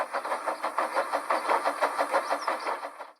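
A steam tank engine on a model or toy railway moving off, a steady run of rhythmic chuffs pulsing about five times a second, fairly close, fading at the end.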